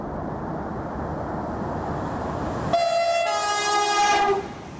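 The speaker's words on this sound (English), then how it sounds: "Oh, here comes another train." A Southern class 377 or 442 electric train rumbles past nearby at Gatwick Airport, then its horn blares in two loud, sustained chords for about a second and a half before fading.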